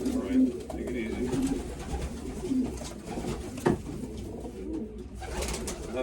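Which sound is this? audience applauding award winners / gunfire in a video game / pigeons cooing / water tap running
pigeons cooing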